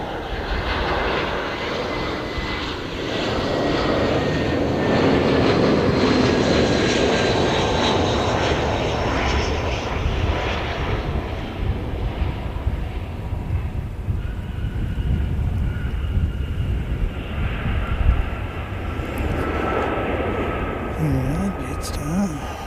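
A Jetstar airliner passes during live plane spotting, its broad engine roar swelling to a peak midway and then slowly fading while remaining loud, with wind buffeting the microphone and brief voices near the end.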